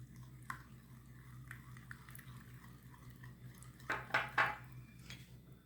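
Eggs and butter are stirred together in a bowl for flaky poğaça dough, a faint, quiet scraping with a few sharper utensil clinks and squishes clustered near the end.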